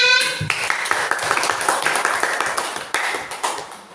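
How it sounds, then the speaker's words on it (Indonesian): Schoolchildren in a classroom clap their hands together, a series of quick, uneven claps close by in a busy run, with a faint chime near the start. "Ayo tepuk tangan tuh semuanya."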